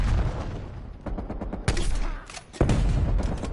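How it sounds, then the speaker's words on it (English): A grenade launcher fires in a shooter video game, with a dense, continuous barrage of blasts and sharp impacts, loud and close, jumping in intensity with a few heavy booms. "It's the grenade launcher."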